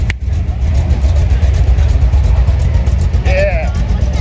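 Custom 1967 Chevrolet Chevelle hot rod with a 427 engine at a Huntington Beach classic car show, its deep lumpy exhaust rumbling loud and close as it rolls by, with a voice briefly heard over it.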